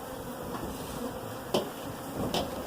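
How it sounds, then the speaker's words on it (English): A swarm of honey bees buzzes outdoors during swarm catching, a steady, close droning hum throughout with a couple of brief sharp knocks or taps. "Me and the bee buster, Jim Wilson, out here teaming up on these bees."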